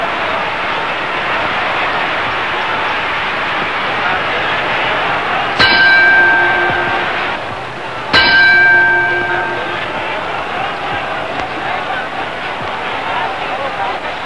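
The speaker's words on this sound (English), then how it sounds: "as we near the bell ending round 7" Boxing ring bell ending round 7 of a Baer versus Schmeling fight, two sharp metallic clangs a few seconds apart ringing out over a loud, steady crowd roar.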